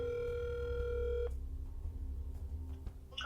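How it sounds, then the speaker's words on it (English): A telephone call to a motel: a few seconds of steady ringback tone from the handset, then a click into quiet line noise with faint scattered knocks, no voices. "let's call this number."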